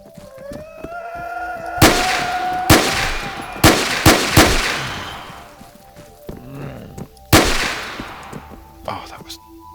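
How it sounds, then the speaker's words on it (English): Gunfire in the survival shooter Ravage: Lost, with about six loud, sharp shots spaced unevenly across the clip amid quieter game ambience, some shots in quick pairs. "Wasted almost a whole magazine on nothing."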